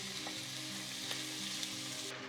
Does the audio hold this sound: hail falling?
no